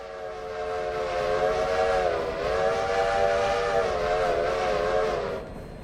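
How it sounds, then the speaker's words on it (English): A steam locomotive whistle in the railroad game Railroader sounds one long, loud chord-like blast for several seconds with a slight wavering pitch, then cuts off cleanly. "Let's hang on to the whistle."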